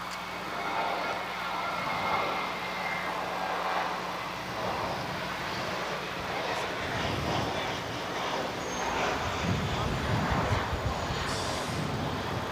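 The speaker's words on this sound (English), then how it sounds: "777 freighter turning left on Alpha 7," A Boeing 777 freighter jet taxis and turns at LAX, its engines giving a steady broad rumble and whine that swells toward the end. Airport background noise runs underneath.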